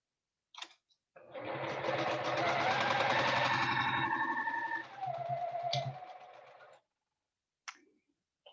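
A sewing machine stitches a quilt block in a fast, steady mechanical whir that runs for several seconds, briefly slows, then resumes before stopping, with faint clicks before and after.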